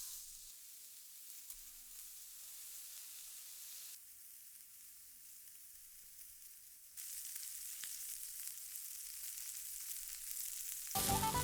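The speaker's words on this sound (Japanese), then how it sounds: "強火で1分ほど焼き、火を少し弱めてさらに1分ほど焼く。" Steak searing in a pan over high heat, heat then turned slightly lower: a steady, close, bright sizzle and hiss with no voices, swelling louder midway and again at the end.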